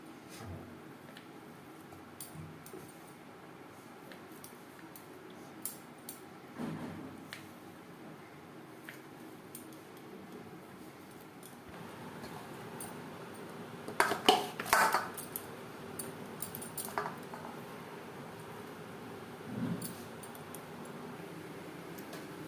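Boiled, peeled potatoes diced into small pieces with a knife for Bengali alu posto, giving quiet scattered taps and knocks of the blade on a board, with a louder cluster of clinks near the middle and no talking.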